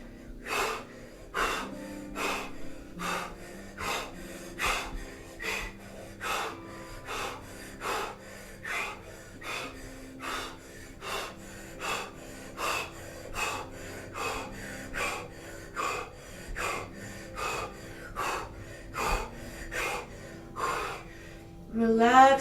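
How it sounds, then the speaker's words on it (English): Forceful nasal exhales in a kundalini yoga breathing exercise, repeated in a steady rhythm roughly once per second for over twenty seconds, each a sharp close breath burst over a faint low hum. "Powerful exhales."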